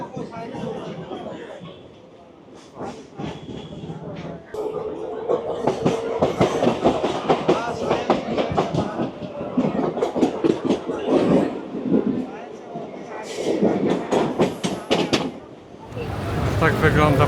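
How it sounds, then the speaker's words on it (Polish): Crowded Mumbai commuter train with open doorways rolling along, a loud steady rumble with rhythmic clatter from the wheels. Voices chatter over it the whole time. "Pociąg rusza, nie ma tutaj żadnych drzwi"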